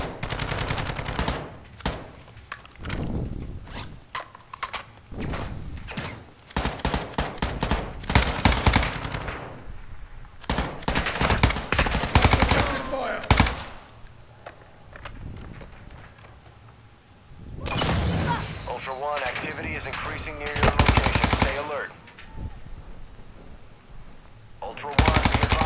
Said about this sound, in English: There's a fucking sentry gun up